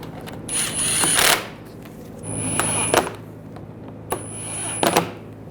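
Power tool tightening the front lower control arm bolts on a 2009-2017 Volkswagen Tiguan, three separate whirring runs, each ending in a ratcheting rattle as it bites, close by in a workshop, with no talking.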